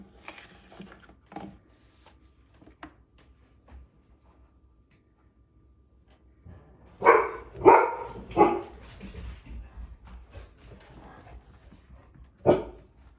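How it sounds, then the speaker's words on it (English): Dogs bark in a cluster of loud, close barks, then go quiet before a single sharp bark near the end. "You might hear the dogs barking."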